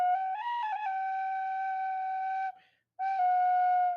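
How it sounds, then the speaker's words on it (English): A tin whistle plays a melodic line from a video game's Terrace theme, clear and close, with sustained bright notes, a short bend, a brief pause and then a held note resuming. "Terrace theme. Tin whistle."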